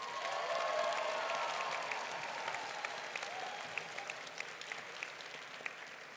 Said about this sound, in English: One more round of applause for all the teams that are here.